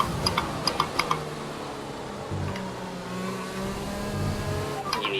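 Formula 1 race car engine in the F1 2020 video game, a steady high-pitched whine along a straight, with a few faint clicks at the start and near the end.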